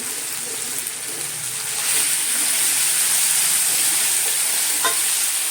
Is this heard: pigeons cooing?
no